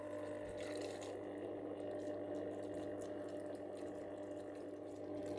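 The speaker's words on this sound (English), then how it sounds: "It makes gentle waves across the top instead of the waterfall effect it had with the lower water level." Steady trickle and gentle splash of water flowing from an All Pond Solutions 600 HO hang-on-back aquarium filter into a topped-up tank, a faint continuous wash with a low hum underneath.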